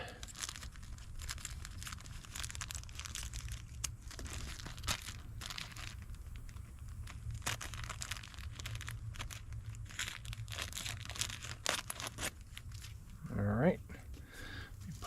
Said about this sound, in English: I'm going to take one of these Ziploc bags